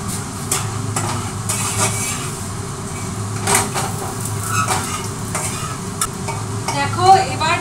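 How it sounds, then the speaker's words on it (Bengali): Spices crackle in hot oil as a tempering for dal. A loud, continuous sizzle carries clicks of a spoon against the pan, with busy stirring throughout and no one talking. "দেখো, এবার ডালের ফোড়নটা করে নিচ্ছি"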